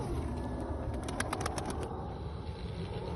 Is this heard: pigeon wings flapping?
yes